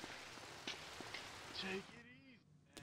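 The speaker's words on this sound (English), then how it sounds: "Oh, it's raining." Steady rain patters in a GTA Vice City Definitive Edition game scene under background hiss, with short tonal game sounds and a voice murmuring briefly.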